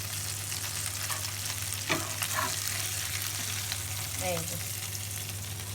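Meat frying in a pan over low heat, a steady soft sizzle running throughout with a few scraping stirs and utensil clinks, and a brief voice speaking near the start.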